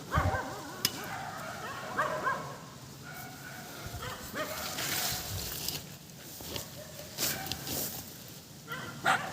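A dog barks and yips in short, irregular bursts at moderate distance, with whimpering calls scattered through the stretch and no talk over it.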